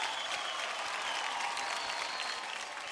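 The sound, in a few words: audience applause on a TV dance show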